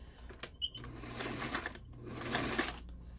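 A sewing machine bastes a centered zipper into a dress, a quiet mechanical whirring in short bursts with brief pauses between runs, heard up close.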